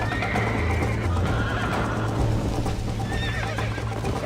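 A horse in the Red Dead Redemption video game neighs and whinnies loudly over a dense game soundscape with hoof clip-clops and a steady low hum, with no speech.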